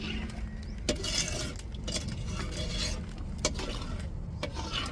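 Food being stirred in a pot as it cooks toward a jam-like thickness, with faint clinks and scrapes of a utensil against the pot at an irregular pace, heard alone and fairly quiet.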